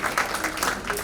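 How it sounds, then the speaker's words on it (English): Brief burst of audience clapping at a dental college inaugural event, a soft, uneven patter of hands lasting about a second. "huge round of applause please"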